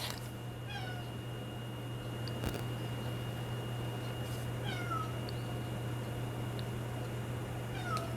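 A cat meows repeatedly, each cry a rising-falling wail, spaced a few seconds apart over a steady low hum, with no one talking.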